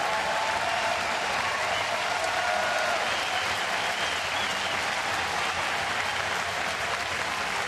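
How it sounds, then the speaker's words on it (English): Stadium crowd at a Colorado at Toronto baseball game applauds a pitcher leaving in the seventh inning, a steady, dense wash of clapping and cheering that holds at an even level throughout. "A very deserving round of applause right there."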